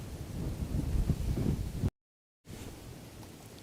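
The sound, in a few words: wind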